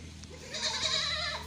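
A fresh goat with eight teeth bleats once, a drawn-out wavering cry lasting about a second, close and fairly clear over a low background hum, with no talk.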